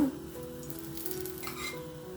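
Ghee sizzling on a bottle gourd rice roti in a pan over a medium flame, a steady, close frying hiss with a few faint stirring scrapes and no talk.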